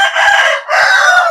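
A young eight-month-old Ayam Ratu LHK rooster, a yellow-feathered breed with white beak and legs, crows loudly and close, its call breaking briefly in the middle before carrying on.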